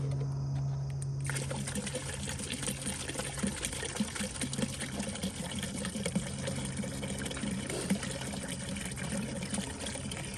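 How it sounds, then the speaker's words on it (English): Antifreeze pours steadily into a pool skimmer during winterizing, a continuous close splashing trickle that runs for several seconds. "I'll pour some of this in."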